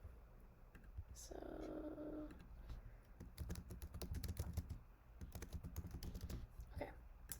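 Fast bursts of typing on a computer keyboard, close and moderately loud, with a person speaking over part of the clatter.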